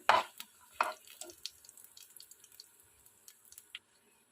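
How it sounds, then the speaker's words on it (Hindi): Dry fruits cook lightly in a spoon of ghee in a pan, giving a faint crackle with scattered clicks and scrapes of stirring. Two louder clatters come near the start. "ड्राई फ्रूट्स ऐड कर दें। इनको हल्का सा पका लेंगे।"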